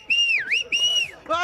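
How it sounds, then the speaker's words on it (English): Whistle sounded as a signal for people to gather, two long wavering pitched blasts with a brief gap between them, loud and close, followed by a short burst of voice. "Whistle! Oh, that's a whistle!"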